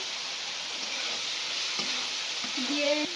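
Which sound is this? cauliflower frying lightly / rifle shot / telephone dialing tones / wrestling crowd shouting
cauliflower frying lightly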